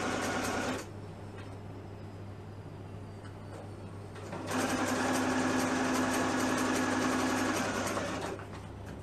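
A sewing machine hems a pair of children's classic leggings, its steady mechanical whir running in two bursts separated by a quieter pause, close and fairly loud, with no talking.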